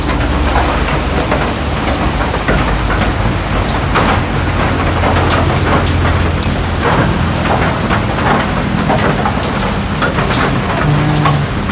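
Heavy rain pours down steadily, a dense, loud hiss of drops hammering surfaces with occasional sharper splashes, continuous and close with no voices.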